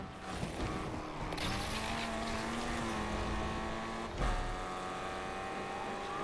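An older Mustang races in the video game Need for Speed Unbound, its engine holding a steady droning whine that shifts pitch as it accelerates, with a brief thump partway through; no one speaks.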